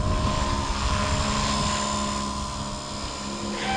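A small Blade Fusion 180 RC helicopter with plastic blades flies close by, its rotor and motor giving a steady, loud high-pitched whine without a break.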